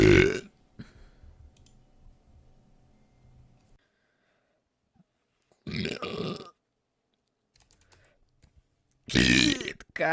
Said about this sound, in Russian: Водичку только пью с утра, уже рыгаю.